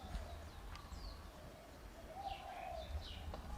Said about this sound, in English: My favorite bird's on the guava tree.